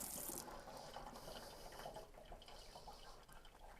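Canned black beans being rinsed in a strainer under a running kitchen tap, a steady quiet splash of water over the beans with some shaking, no talking.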